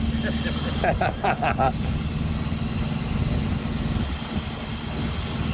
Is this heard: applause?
no